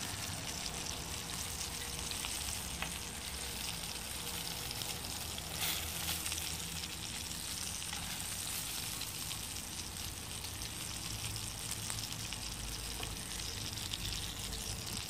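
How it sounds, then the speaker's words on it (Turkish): Continuous crackling sizzle of peppers frying in plenty of hot oil, steady and close, with scattered pops of splattering oil throughout. "Çıtır çıtır ya, her yeri sıçrıyor."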